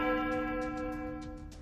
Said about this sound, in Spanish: De repente se escuchó la campana de una iglesia.